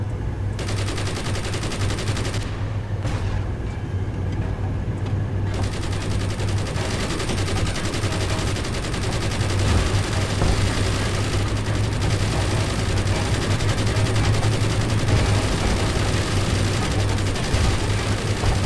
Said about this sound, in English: Oh, the machine gun's overheated as well.